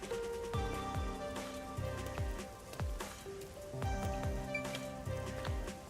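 Steady rain falling over a city in Rain Code, a constant patter of drops on surfaces beneath repeating tonal music, fairly soft and continuous with no voices.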